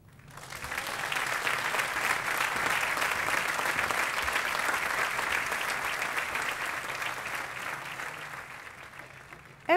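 An audience claps steadily in a lecture hall to welcome Dr. Geraldine Downey, dense applause swelling quickly and holding for several seconds before tapering off at the end.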